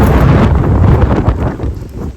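Strong wind buffets the microphone outdoors, making a loud, low, rumbling blast that swells and eases throughout.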